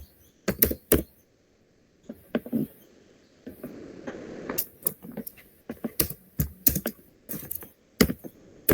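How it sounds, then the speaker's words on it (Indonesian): Sharp, close clicks of a computer keyboard come in short irregular bursts as a sudo command is typed on a VPN server machine, with quiet pauses and a soft background hiss and no speech. "Yang pertama saya mengetik sudo i"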